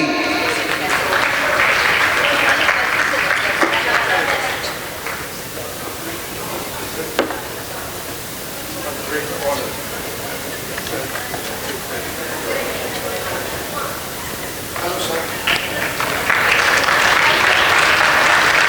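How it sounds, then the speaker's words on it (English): A gala audience applauds an award honoree, loud dense clapping that eases into a lower, scattered patter mid-way before swelling strongly again near the end, with voices mixed in beneath. "Let's have a round of applause for Ramesh Mehraji."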